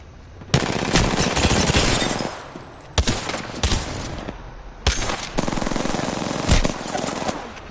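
Rapid automatic weapon fire in the video game Apex Legends rattles out in several loud, close bursts separated by short pauses.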